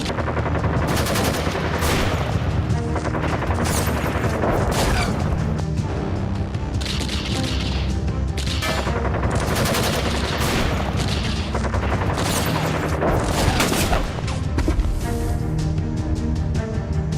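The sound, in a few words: rapid gunfire during an army counter-terror operation in Kashmir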